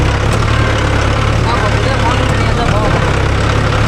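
A Mahindra tractor, a 415 or 575 DI, runs with a loud steady engine drone and deep low rumble, close and continuous, while people talk over it.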